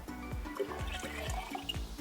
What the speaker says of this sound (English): I'm going to add this to my water to pour it down